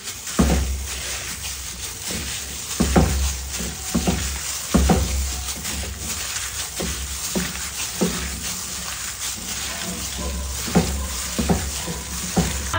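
A quarter kilo of ground beef is kneaded and mixed by hand, producing a steady, close, wet squishing with recurring soft slaps throughout and no voices.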